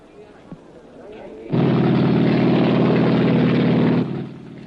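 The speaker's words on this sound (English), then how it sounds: "With just seconds to go, the Castrol ambulance helicopter lifts off." At the 1967 Isle of Man TT races, a Castrol ambulance helicopter lifts off with a loud, steady engine and rotor roar that swells suddenly, holds for a few seconds and then drops back, with a commentator speaking before it.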